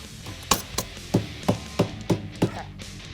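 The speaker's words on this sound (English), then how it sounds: "and hammer it into place." Sharp hammer blows strike about eight times at an uneven, deliberate pace, each a crisp knock close by with brief quiet between, driving a seal into place on a Mustang axle ring and pinion install.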